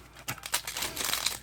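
A Magic: The Gathering Double Masters booster pack wrapper crinkles and tears open in a short, close burst of foil crackling.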